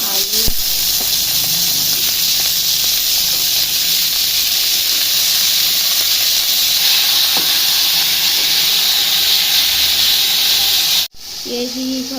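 Peas and potatoes frying in a pan give a steady, loud sizzle and hiss that runs nearly unbroken, then cuts off abruptly near the end.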